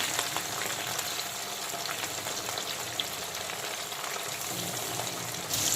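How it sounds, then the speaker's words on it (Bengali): Rohu fish pieces fry in a pan with a continuous, dense sizzle and crackle that stays close and fairly loud throughout, with no talking. "তো পোনা মাছের একটা দিক কিন্তু ভালো মতো ভেজে নিয়েছি, আমি মাছগুলোকে এখন উল্টো করে দেব।"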